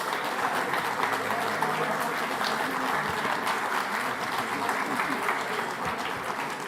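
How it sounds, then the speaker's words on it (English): Sustained audience applause at a conference in New York City for a mayor and a minister, a loud, dense, continuous roar of clapping from a large crowd. "a round of applause for Mayor Eric Adams and Minister Nir Barkat"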